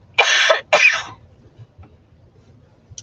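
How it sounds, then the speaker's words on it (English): Two sharp, close coughs in quick succession from a person whose allergy medicine is wearing off, followed by quiet background. "Sorry about the coughing, y'all."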